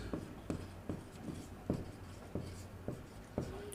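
Chalk or marker writing on a classroom board during a geography lesson, a series of short scratchy strokes tapping out at a steady, uneven rhythm, close and fairly faint, with no talking.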